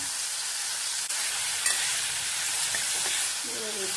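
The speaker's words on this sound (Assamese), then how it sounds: "লগতে পটলকেইটা ভাজি ল'ম" Fresh, tender pointed gourd frying in oil alongside fish, a loud unbroken hiss and crackle with slight fluctuations and no talking.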